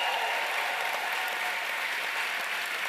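A large audience at a live Mayo supporters' event applauds, dense, steady clapping that fills the room for the whole stretch without any speech over it.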